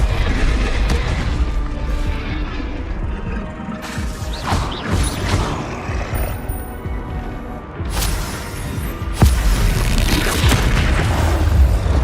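Incendio and Confringo spell blasts in Hogwarts Legacy, a dense run of booming, crackling impacts and bursts layered over continuous game effects, with two sharp louder blasts near the middle and toward the end.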